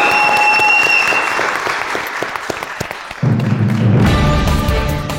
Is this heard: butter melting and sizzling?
no